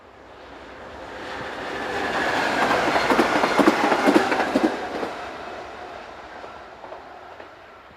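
Northbound electric train unit 427052 passes on its way back from Fulda, rising from a distant rumble to a loud, close clatter of wheels over rail joints, then fading away again.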